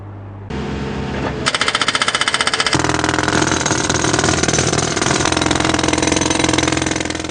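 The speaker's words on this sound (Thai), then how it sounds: "เสียงของเครื่องขุดเจาะที่ทำการขุดเจาะพื้นผิวการจราจร" A road-breaking drill hammers into asphalt and soil at a flooded intersection in Chanthaburi, Thailand, starting abruptly with a rapid, loud, continuous pounding that holds steady over a running engine, with no voices.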